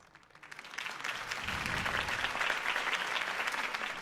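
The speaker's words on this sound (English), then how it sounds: "could have heard that applause" Applause from a crowd in the video game Batman: The Telltale Series rises quickly and then holds as a steady, dense clapping roar, moderately loud, with no speech over it.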